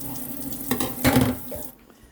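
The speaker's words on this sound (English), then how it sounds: "Rinse that off right quick." Something rinsed under a running kitchen tap, a steady water splash that swells briefly midway, then stops abruptly.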